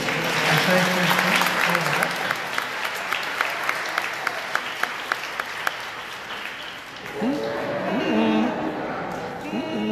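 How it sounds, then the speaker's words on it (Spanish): Churchgoers at a Second Sunday of Easter Mass applaud a girl named Camilia: a strong, close burst of clapping that gradually thins and fades, after which a voice begins speaking. "Vamos a darle un aplauso a Camilia."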